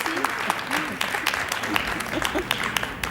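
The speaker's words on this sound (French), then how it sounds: "on peut vous applaudir" A game-show studio audience applauds in a short burst of clapping, with a host's voice talking over it.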